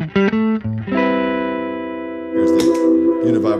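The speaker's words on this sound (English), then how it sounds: "So here's the sound of the amp just as is." Electric guitar played straight into an amp with no pedals, clean tone: a few short plucked notes, then a long sustained ringing chord and a brighter strummed phrase, loud and close.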